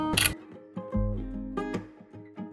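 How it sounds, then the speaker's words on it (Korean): Nikon Z8 mirrorless camera playing its electronic shutter sound, a loud synthesized click burst followed by a low tonal tail and a few further clicks, close and alone. "셔터 엄청 크지 않아요 이거?"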